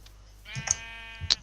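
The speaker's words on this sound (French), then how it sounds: "on a des moutons, c'est parfait." Sheep in a video game bleat twice in quick succession, each call short and wavering with a sharp onset, fairly close over a quiet background without talk.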